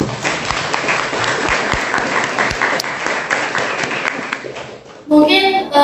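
Audience applause at a national seminar welcoming a speaker, dense sustained clapping filling the room for about five seconds, then a voice begins talking.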